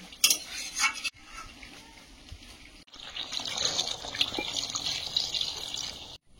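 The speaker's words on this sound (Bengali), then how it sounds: "মাংসটা কষানো হয়ে গেছে, মাংস থেকে তেল ছেড়েছে, এবার জল দিয়ে দেবো।" Water poured into a pan of browned meat curry whose oil has separated, giving a steady rushing hiss and bubbling sizzle that builds and holds after a short stirring and scraping start, with no voices.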